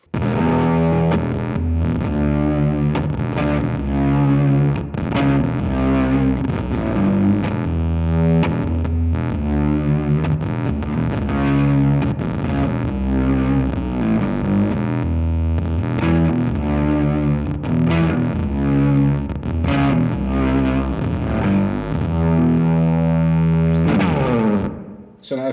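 An electric guitar runs through a Beetronics Zzombee pedal set to octave only, with the dry signal swelling in while the ramp switch is held. The tone is thick and fuzzy, played as continuous chords and notes for the whole stretch.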